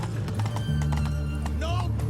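Roach, a horse in The Witcher 3, gives a whinny over steady clip-clopping hooves, with talk running over it throughout.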